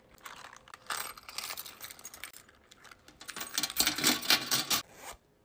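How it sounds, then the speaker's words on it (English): Keys rattle and clink as they are dropped into a powder pink Coach leather bag, a few bright metallic jingles close by, swelling near the end before stopping, with no talking. "I'm gonna put my keys in here and it is gonna match everything else."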